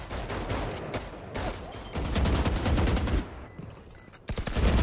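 Gunfire in Valorant, rapid bursts of close automatic shots in quick rhythmic strings, with short pauses between sprays.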